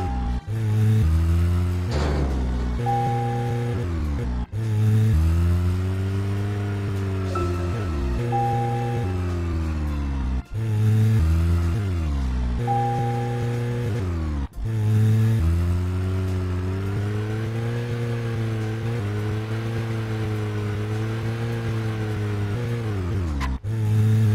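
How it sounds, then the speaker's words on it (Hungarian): A car engine in the video game Deadly Premonition hums at a steady, loud drone with rising and falling pitch as it revs, broken by brief dips every few seconds, with no talk. "Nem én csinálom egyébként, tehát tényleg ilyen hangja az autónak."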